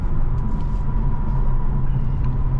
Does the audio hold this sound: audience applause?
no